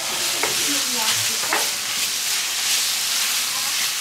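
Baked beans fry in a pan on a grill's side burner, giving a loud, steady sizzle and hiss with occasional stirring scrapes, close up and mostly without talk.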